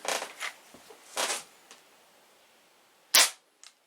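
Crosman 1377 pump air pistol pumped five times firing a Crosman Premier pointed 7.4 grain pellet: one sharp, loud crack near the end, following a few softer handling clicks and rustles.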